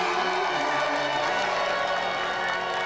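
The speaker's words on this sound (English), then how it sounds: "So let's another round of applause for our two special guests, Vicky Taylor and Donna Air." Studio audience on a television games show applauds steadily for two guests, a dense, continuous wash of clapping with some crowd noise, fairly loud and even throughout.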